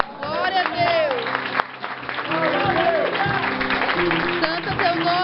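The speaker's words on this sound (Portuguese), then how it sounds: "Aplauda o Senhor nessa noite." A church congregation applauds at an evening service, steady moderate clapping running throughout, with voices and speech mixed in over it.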